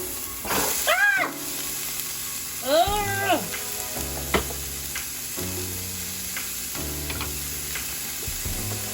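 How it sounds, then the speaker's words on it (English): Half a large onion frying in a little oil for vegan curry chayote, a soft continuous sizzle under scattered utensil clinks and taps, with a couple of brief sliding tonal squeaks and no speech. "You really just need a little bit to fry down your onions"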